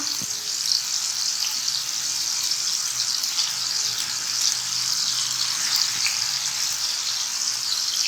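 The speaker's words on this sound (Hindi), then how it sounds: "हमने इनको अच्छा सा गोल्डन फ्राई करना है, बहुत ज़्यादा डार्क ब्राउन नहीं करना।" Noorjahani kebabs fry golden in hot oil with a loud, steady, close sizzle that carries on without pause and without talk.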